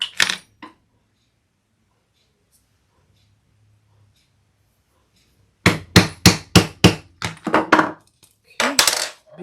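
Small cutting dies are struck to punch holes through webbing and vinyl, giving a quick run of sharp, close metallic taps after a long quiet pause, then a final burst of hits.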